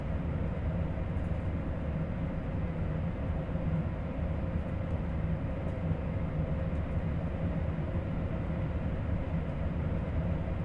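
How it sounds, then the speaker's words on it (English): A high-speed train in the Train Sim World 3 video game rushes past as a steady, loud, broad rumbling roar that holds constant throughout with no talking. "it quickly shows how all of the train passes by in a blink of an eye"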